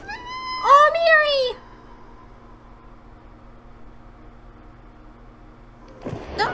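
A cat in the video game Stray meows loudly with a rising, wavering cry, followed by a quiet stretch of low hum and a brief noise burst at the end.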